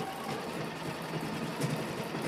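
An embroidery machine stitches out a design, a steady low mechanical hum with faint rapid needle ticking, close and continuous, with no voices.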